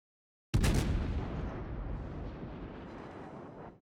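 A single heavy naval gun salvo booms in the World of Warships game, firing from a Des Moines cruiser. A sharp onset swells into a broad rumbling roar that fades over about three seconds, with no talk.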